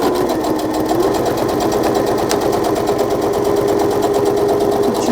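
Sewing machine stitching across pocket fabric, running loud and continuous with a fast, even mechanical chatter from start to finish.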